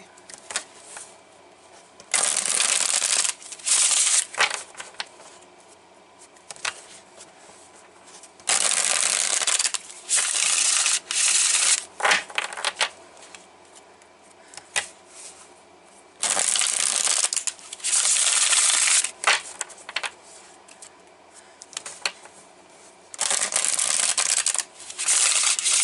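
Tarot cards shuffled in a Celtic Cross reading, with loud bursts of riffling and crisp card slaps recurring in several long stretches, separated by quieter pauses.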